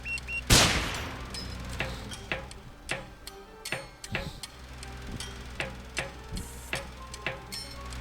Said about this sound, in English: This is going to be tricky because it's going to be a double explosion.